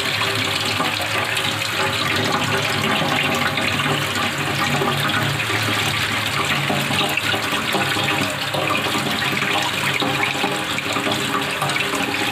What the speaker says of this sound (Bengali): তাই এবার জল দিয়ে ওয়াশ করি ভালো করে